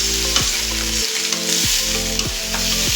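Flat beans frying in a pan, with a steady close sizzle broken by about four regular scraping stirs of a spatula against the metal, and no talking.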